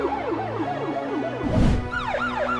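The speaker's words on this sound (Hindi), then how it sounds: "कुछ ही देर में एम्बुलेंस आ जाती है" An ambulance siren wails in repeated rising and falling sweeps, loud and steady, with a brief burst of rumbling noise partway through.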